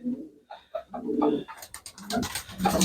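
Pigeons coo in a village dovecote, low throaty calls coming in several close bursts, with higher rustling and fluttering building toward the end.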